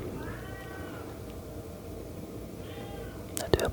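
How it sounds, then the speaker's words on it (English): A pet cat gives two drawn-out meows a couple of seconds apart, soft and near, followed by a sudden sharp knock or thump indoors. "here's my cat saying hello."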